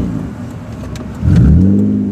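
An older BMW engine idles with a rough, burbling exhaust note, then revs sharply and loudly partway through, the surge holding before easing slightly, close by and with no one talking.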